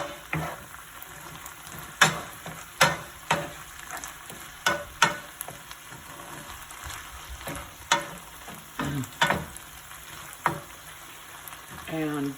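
Pasta being stirred into a tomato sausage sauce in a pan, with a soft sizzling bed broken by repeated sharp spoon knocks and scrapes against the pan, close by, with faint voice in the background.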